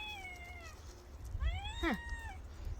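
A cat in a village garden meows twice, waiting to be fed, with a drawn-out call and then a sharper, bending one. Both calls sound fairly near against quiet outdoor background noise.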